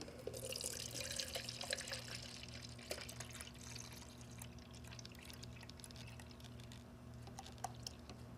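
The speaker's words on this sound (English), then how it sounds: "So now we simply take the cap off and fill the bottle up." Ink poured from a 16-ounce bottle into the refill bottle of a Viper DTG printer, a steady close trickle and splash of liquid running for several seconds over a low constant machine hum.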